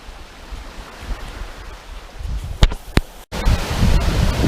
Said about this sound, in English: if you can't hear me over the wind and the waves